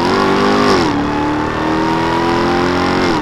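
A 2021 Ram 1500 TRX's 6.2-liter supercharged V8 roars loudly and continuously, its pitch rising, dipping as it shifts, then climbing again in a sustained rev.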